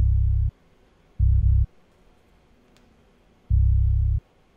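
Three deep bass one-shots from the Aperture One Shot Kit, loud and boomy with short gaps of near silence between them; the second hit is doubled into two quick pulses.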